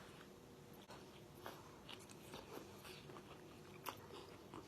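Quiet crunching and biting of crisp Korean food, irregular crackly bites close to the microphone against a faint steady background hiss.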